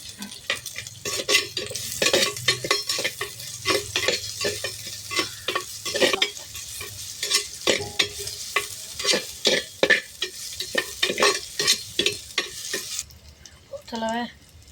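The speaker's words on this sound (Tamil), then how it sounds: "இப்போ வெங்காயம் 1 கை போட்டுக்கணும்." Onions being fried and stirred in a pan for Tamil-style chicken curry, with steady sizzling under repeated scraping strokes of a spoon, close and fairly loud throughout.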